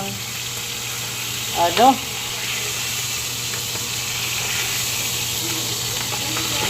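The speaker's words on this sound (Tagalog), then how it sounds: "nagluluto mo tayo ng beef steak" Beef steak sizzles in a hot pan with a steady, close frying hiss throughout, and a voice briefly speaks over it partway through.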